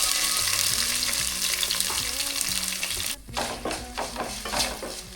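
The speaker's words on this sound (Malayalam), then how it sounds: "കറിവേപ്പിലയും ഇഞ്ചിയും വെളുത്തുള്ളിയും ചതച്ചത് ഇടാം." Crushed curry leaves, ginger and garlic fry in hot oil, giving a loud, dense, continuous sizzle up close, which briefly drops and then returns with crackling and stirring scrapes.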